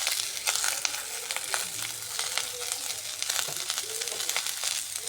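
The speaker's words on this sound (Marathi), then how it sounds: "कांदा ना लवकर भाजण्यासाठी त्यात जरासं तेल वरून आणि थोडंसं मीठ टाकतो" Chopped onion frying in a pan with a little oil and a pinch of salt, for a Malvani dry-coconut masala paste. A steady close sizzle runs throughout, broken by scattered sharp stirring scrapes and clicks.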